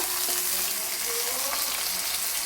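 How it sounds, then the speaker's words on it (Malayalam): Half an onion sautéing in a pan for instant noodles, a close, steady sizzle with a faint stirring tap or two. "ഒരു സവാളയുടെ പകുതിയാണ് എടുത്തേക്കുന്നത് ഇതൊന്നും ഒത്തിരി വഴന്നു പോകണ്ട"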